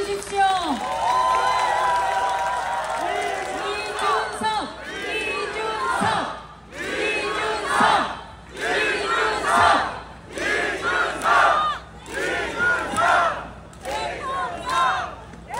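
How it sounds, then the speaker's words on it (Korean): A large crowd at a Korean presidential campaign rally for candidate Lee Jun-seok roars and chants in repeated loud surges, with mixed voices cheering between brief dips and some scattered clapping. "여러분, 큰 박수 주십시오."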